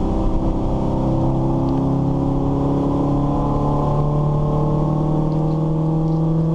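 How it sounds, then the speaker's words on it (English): Triumph TR7 race car with twin SU carburettors driving a wet track, its engine droning steadily with a rising, revving pitch, heard continuously from on board with no talk. "The car sounds different because it's got a couple of SUs on it."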